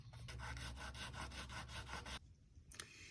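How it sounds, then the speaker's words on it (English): Sanding by hand around a hole in a tire to prepare it for a patch gives rapid back-and-forth rubbing strokes, close and fairly quiet, which stop abruptly and are followed by a brief scrape. "Now I'm going to sand this down"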